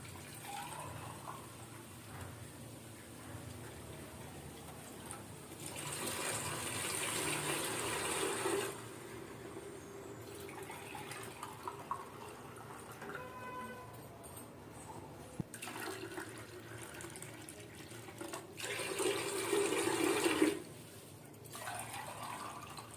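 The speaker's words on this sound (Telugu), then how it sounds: "3 కళాయిల్లో నీళ్ళు పోస్తున్నాను" Water pours from a vessel into three pans while making veg biryani in a home kitchen, two distinct splashing fills standing out over quiet background clatter.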